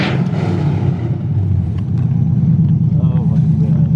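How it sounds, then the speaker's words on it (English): V8-powered Toyota Cressida doing a burnout, a loud sustained low engine roar and rumble held steady throughout, with voices shouting over it. "Do a burnout now."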